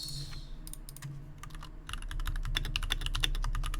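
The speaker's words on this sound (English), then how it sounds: "You heard me typing away and apparently I can't type fast enough." Rapid keystrokes clatter on a computer keyboard, sparse at first then a quick continuous burst, close and fairly quiet over a low background hum.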